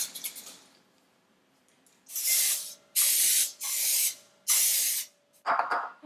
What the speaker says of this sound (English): we're going to grab some cooking spray and just spray each cavity with some of it so it's nice and greased